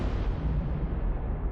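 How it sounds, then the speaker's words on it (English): A supernova explosion sound effect: a dense, deep roaring rumble of broadband noise that holds steady and loud for about a second and a half. "A supernova, one of the most violent events in existence. In that explosion, elements heavier than iron are born."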